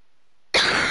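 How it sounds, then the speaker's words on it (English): One sudden harsh cough from a person who is unwell, bursting out of near silence close to the microphone and trailing off briefly. "I've got a bad cough"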